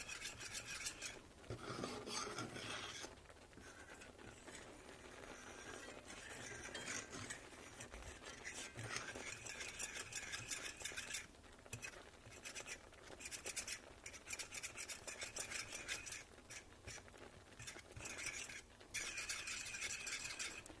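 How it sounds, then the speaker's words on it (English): A fork whisking mushroom gravy in a pan for pork chops, rapid scraping and rasping strokes against the metal in bursts, close and continuous with short pauses, no voices. "I thought I'd need the whisk, but actually my fork's working pretty good for right now"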